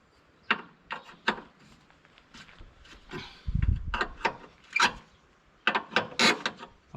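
A bolt is spun off a Gaz66 truck wheel with a handful of separate metallic clicks and rattles, nearby and fairly quiet, plus a short deeper rumble partway through.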